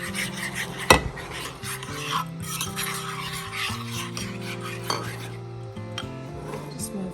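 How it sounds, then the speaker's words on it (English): A spoon stirs seasoning into melted butter in a pot, with scraping and rasping strokes and a sharp clink of metal near the start, close by and moderately loud, with no talking. "I've got the rest of the butter melted, and I'm just going to give this a shake, like probably a quarter teaspoon, and give that a stir."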